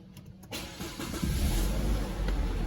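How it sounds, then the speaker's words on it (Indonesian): A car's engine is started during a front disc brake pad replacement: a brief cranking whir gives way to a catch and rising steady idle, close by and without talking. "hidupkan mesin"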